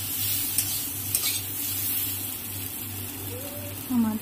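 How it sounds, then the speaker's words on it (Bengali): Fried bitter gourd and other vegetables with poppy seed paste hiss and crackle together in a pan, a steady close sizzle with light stirring and a low background hum. "সবকিছু একসাথে ভেজে নিলাম।"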